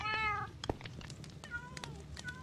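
Several cats in the Minecraft video game meow in quick succession, bright high-pitched calls at a close distance, scattered across the clip over a low steady background hum.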